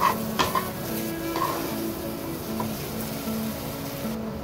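Semolina modak dough with ghee is stirred in a pan, a steady scraping and stirring with a soft sizzle underneath and a few sharper spoon knocks early on, close and alone with no voices.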